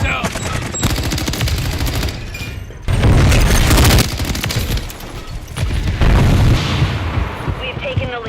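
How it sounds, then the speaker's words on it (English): Semtex grenade blast in Call of Duty: Modern Warfare 3 amid heavy gunfire, with loud booming bursts and rapid shooting across the clip, plus shouted voices in the mix. "Semtex out!"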